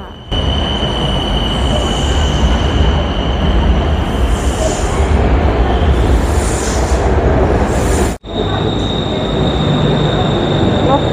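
A Bangkok Skytrain pulls into On Nut elevated station with a loud, continuous rumble of wheels on rails and a sustained high whine, ending in a brief cutoff and a steady tone as it stops; someone speaks briefly.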